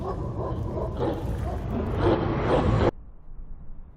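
Dogs barking and yipping in an Ace Combat 7 video game cutscene, loud and close, mixed with a roaring music-like bed that cuts off abruptly near the end, leaving a quieter background.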